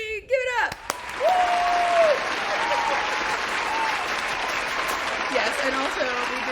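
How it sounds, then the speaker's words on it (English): Audience applause at a live interview show, a broad wash of clapping that carries on steadily, partly mixed with voices and other tonal sounds. "we did have some real legit applause in the background there"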